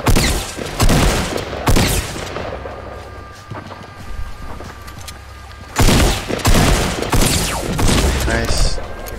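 Loud video game gunshots, including shotgun blasts, crack in a few heavy bursts with pauses of quieter ambience between them.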